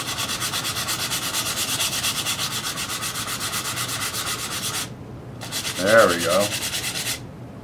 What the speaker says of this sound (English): we're going to sand that down and make it nice and smooth